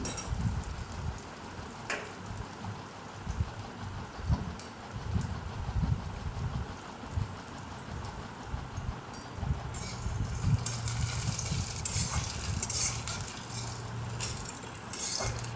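Onions fry in a pan as they are stirred, giving a crackling sizzle with scattered scrapes and clinks of a utensil against the pan, close and continuous.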